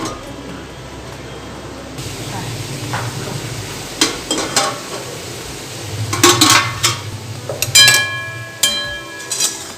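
Watermelon rind curry cooks in a karai (wok) over a raised gas flame, giving a low steady sizzle under repeated metal spatula scrapes and clinks against the pan, growing busier toward the end.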